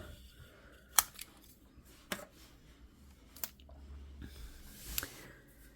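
Tape is pulled and pressed while taping off a card, quiet and close, with a few sharp crackling snaps spaced about a second apart over soft handling noise.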